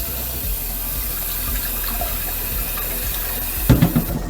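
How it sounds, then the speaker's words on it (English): Tap water runs steadily into a kitchen sink while a spaghetti squash is rinsed under it, a constant wash with a brief louder splashing burst near the end. "bring that over yonder to your sink, get it nice and rinsed off, just like so"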